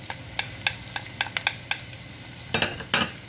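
Onion, spring onion and garlic sautéing on low heat bring a faint background sizzle, with a regular run of close spatula taps and scrapes against the pan that grow louder toward the end.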